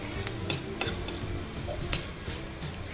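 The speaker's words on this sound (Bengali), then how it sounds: "আর এর মধ্যে পাঁচফোড়ন দিয়ে দিব" Panch phoron sizzles in hot oil in a pan for a fish dal dish, a soft continuous crackle marked by a few sharp metallic stirring clinks.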